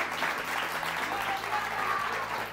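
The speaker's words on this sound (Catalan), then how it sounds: "Aplaudiment per ells i elles." Studio audience applause for visiting school students on a Catalan TV quiz show, steady close clapping from a small crowd throughout, with no talking.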